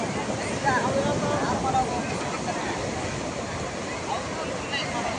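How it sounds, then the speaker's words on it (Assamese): Sea waves on a beach by the Arabian Sea make a continuous, rough roar of surf mixed with wind buffeting the microphone. The sound stays fairly even throughout, with no clear speech. "দেখিছে আমি বৰ্তমান সাগৰত আছোঁ"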